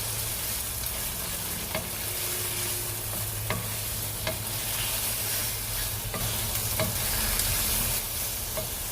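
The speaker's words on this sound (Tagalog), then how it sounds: "ihalo ko dyan sa onion and garlic" Chicken pieces stirred in a hot pan with onion and garlic for pancit guisado, a steady bright sizzle under regular scraping knocks of the spatula against the pan.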